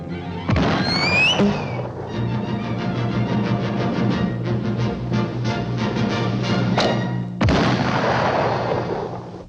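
Two cartoon cannon blasts from the 1950 Looney Tunes short Bunker Hill Bunny boom loudly, one at the start and one near the end, with whistling and brassy music rumbling between them.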